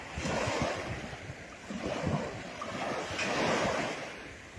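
Wind and sea waves wash onto the beach at Międzyzdroje on a chilly day, a steady broad rush of surf with gusting wind across the microphone.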